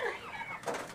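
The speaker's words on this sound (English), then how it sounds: "Little creepy birds in here." Chickens in a dark coop, with a short, faint run of clucks and warbling calls that rises and falls near the listener.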